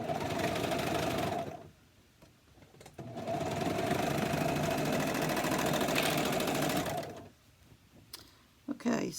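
A sewing machine runs in two long steady bursts with a pause between them, stitching a bamboo fabric scrub cap; the whirring is close and even, with quiet handling sounds around it.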